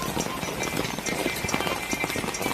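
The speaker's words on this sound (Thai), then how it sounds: "ฝนก็ตกอยู่" Steady rain falling at night, a constant hiss with close patters of drops on a surface, moderately loud and uninterrupted.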